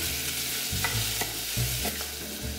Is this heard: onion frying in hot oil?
yes